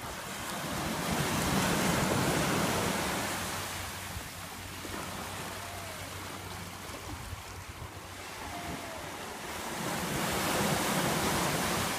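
Ocean surf rolls in at a Hawaii beach near Kailua and Lanikai, the roar swelling, easing off midway and building again, mixed with wind buffeting the microphone, and no voices.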